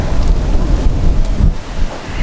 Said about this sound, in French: Il y a du vent, hein, today.